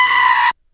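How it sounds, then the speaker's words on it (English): A goat gives one loud, harsh, scream-like bleat that lasts about half a second and cuts off abruptly into silence. "Rory, this is a goat."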